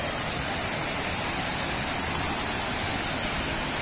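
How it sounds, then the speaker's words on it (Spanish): Steady broadband roar of the Cascadas el Fresno waterfall in Estado de México, a continuous rushing wash of falling water filling the air without pause, fairly loud and close, with no voices over it. "Y vean la cascada de este lado."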